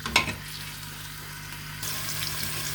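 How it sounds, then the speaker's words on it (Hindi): Chopped onion frying lightly in a pan while greens are being cooked, giving a steady soft sizzle that rises a little louder toward the end, with no talking. "इस प्याज को मैं थोड़ा सा मैं ना फ्राई करती हूँ, ज़्यादा नहीं, थोड़ा सा।"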